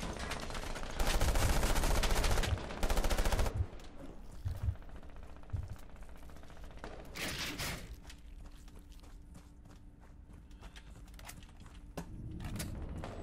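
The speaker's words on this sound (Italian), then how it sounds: "da dove ci sparano?" Bursts of rapid gunfire in the shooter game Moving Hazard during a team deathmatch, two loud sustained volleys early, then scattered quieter shots and another burst, with faint movement sounds between.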